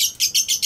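Five quick, evenly spaced bright chirps from a racing pigeon, near and clear, alone with no talk.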